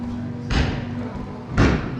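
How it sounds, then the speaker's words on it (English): Two sharp, loud gunshots about a second apart, each with a short echoing tail, heard at a distance outdoors in the streets of Tombstone, Arizona. "Here's some gunshots outside."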